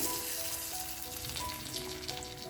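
Tempering of spices sizzling hard as it meets boiling sambar, a steady bright frying hiss running the whole moment at close range with no voices.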